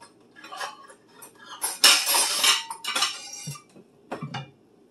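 A white plate is set down over a metal muffin pan in a home kitchen, giving a few close clinks and a scraping clatter of ceramic on metal, spread over several seconds in a quiet room.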